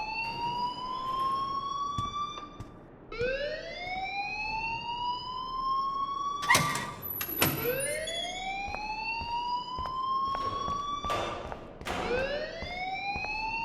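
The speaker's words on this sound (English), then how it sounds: "please turn off that alarm since that's your job" An alarm in the video game Life Is Strange wails in repeated rising sweeps, each climbing tone cut off and restarted, steady and fairly loud with a few sharp clicks between cycles.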